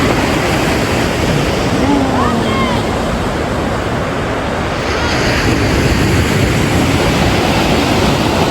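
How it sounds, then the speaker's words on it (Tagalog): Loud, constant roar of ocean surf at Redondo Beach mixed with wind buffeting the microphone, a dense wash of noise with no breaks. "Napakaganda ng alon."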